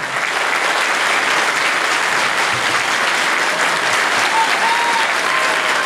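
Sustained, dense applause from an audience after a director's farewell speech at an official event in Foz do Iguaçu, steady and loud throughout with a few faint whistles near the end.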